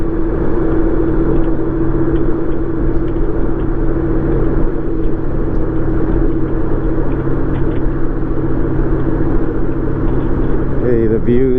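A vehicle on a road trip leaving Santa Maria accelerates and shifts into high gear, its engine a steady loud rumbling drone throughout with a brief rise in pitch at the end.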